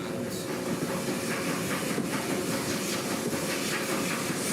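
Steam locomotive Hastings on the Kent and East Sussex Railway, heard from a train carriage as a steady, loud hiss and rumble with faint rhythmic clicks of wheels over rail joints, continuous throughout with no talk.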